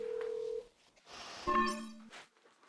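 A telephone sounds with electronic tones: one steady beep, then a brief cluster of stacked tones a moment later, heard close over faint room noise.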